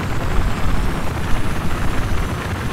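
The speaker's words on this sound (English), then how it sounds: "someone left us a transport chopper at D" Loud rotor thump and turbine roar of a transport helicopter in Battlefield 4, close and continuous with a choppy pulsing texture.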